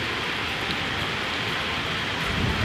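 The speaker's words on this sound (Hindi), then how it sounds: "हम बैठे हैं बारिश का मज़ा लेने" Steady rain falling outdoors, a dense continuous hiss that stays even and fairly loud throughout with no voices.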